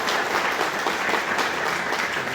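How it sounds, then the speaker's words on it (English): A steady, dense burst of audience applause at an alumni event for a returning graduate leading a placement drive, continuous clapping from a crowd with no talking over it. "I just want a huge round of applause for that"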